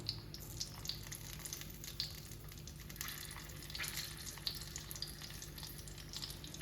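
Whole green chillies laid one by one into hot oil for a mirchi masala curry give a soft, quiet, continuous frying hiss with small crackles and faint pops scattered throughout, no talking over it.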